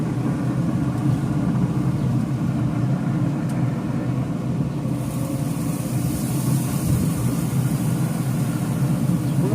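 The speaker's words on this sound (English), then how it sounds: "Hopefully you guys can hear me with this Wyoming wind we got whipping around." Gusty outdoor wind buffeting the microphone beside a Traeger pellet grill in Wyoming, a constant loud low rumble filling the whole stretch with no voice heard.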